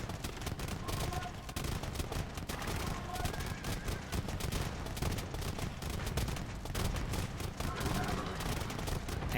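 Bombard cannons fire in an Age of Empires 2 battle, a dense, steady stream of booms and crackling blasts layered with clashing battle noise, loud and continuous throughout.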